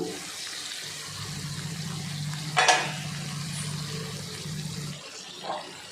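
Drumstick (murungakkai) masala thokku cooks in a pan with a soft low bubbling, broken by a sharp scrape as it is stirred partway through.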